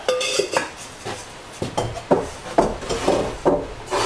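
Ceramic bisque-fired flower pots clink and knock as they are unpacked from a kiln and stacked on a shelf, a series of sharp, close clatters and scrapes at irregular intervals.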